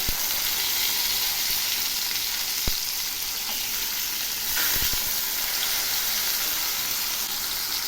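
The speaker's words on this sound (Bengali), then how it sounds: "বড় মাছ, তাই দুটো করে ভেজে নিচ্ছে" Large sorputi fish, olive barb, frying two at a time in hot oil, giving a dense, constant sizzling hiss with a few sharp pops and crackles, close and loud with no voices.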